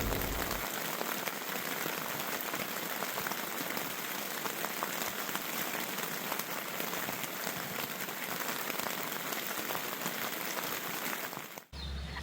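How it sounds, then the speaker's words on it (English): Steady rain pours down at a forest campsite in an old growth forest, a dense, even patter and hiss holding throughout and cutting off abruptly near the end, with no talking. "I absolutely love the sound of rain at camp"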